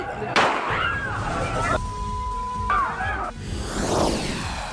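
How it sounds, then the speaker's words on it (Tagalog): A gunshot rings out at a students' bar brawl in Tuguegarao City, a sudden close bang over a noisy crowd, with shouting voices and scuffling carrying on afterward. "Meron pang nagpaputok ng baril."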